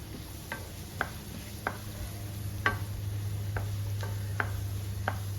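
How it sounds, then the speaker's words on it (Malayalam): Onion sautéed in a pan with a teaspoon each of garlic and ginger, heard as a steady low hum with light sizzling and about eight sharp spatula taps and scrapes spaced through the stir-frying, no talk. "ഇതിലേക്ക് ഒരു ടീസ്പൂൺ വെളുത്തുള്ളി അതേപോലെ തന്നെ ഒരു ടീസ്പൂൺ ഇഞ്ചി ഇത് രണ്ടും കൂടെ ചേർത്ത് നന്നായിട്ടൊന്ന് വഴക്കിയെടുക്കാം"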